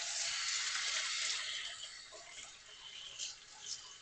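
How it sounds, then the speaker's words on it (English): Hands being washed under a running kitchen tap, a soft steady hiss of water with small splashing changes as the hands move, close and quiet. "Wash the hands again."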